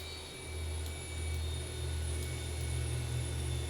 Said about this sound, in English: Listen to those engines spool down.